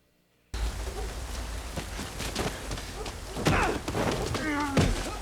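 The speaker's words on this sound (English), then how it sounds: "Ooh, yes, in the rain." Steady rain falls and patters on surfaces in a dramatic outdoor scene from the German TV series Dark. The rain is continuous and moderately loud, and voices and other sounds come up over it in the second half.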